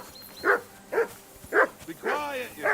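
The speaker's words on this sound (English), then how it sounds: "I assume you can hear that damn dog of yours barking." A dog barks in Kingdom Come: Deliverance II, four or five loud, close woofs at an uneven rhythm, with the last one drawn out into a whining howl.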